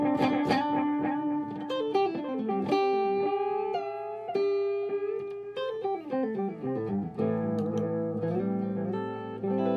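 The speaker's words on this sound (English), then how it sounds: "and then I turn on the Sonic Cake Echo Rain." An electric guitar plays a funk-soul line through a Sonic Cake Echo Rain echo pedal, each picked note trailing long repeating echoes and wash that pile into a dense, spacey, sustained tail, loud and alone without talk.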